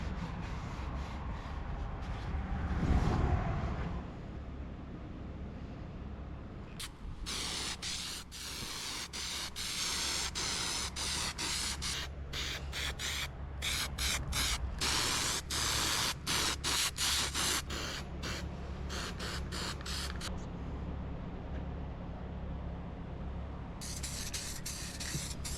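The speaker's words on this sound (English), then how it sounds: "and then we'll go over it with some black spray paint." Black spray paint hisses from an aerosol can onto a car's plastic trim in long bursts broken by short pauses, close and steady, on an inexpensive used car being fixed up for resale.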